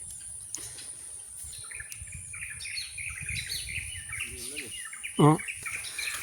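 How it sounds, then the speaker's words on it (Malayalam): Birds chirp intermittently outdoors, with a brief loud call near the end standing out over steady background noise and faint insect-like hiss. "കിളികളൊക്കെ"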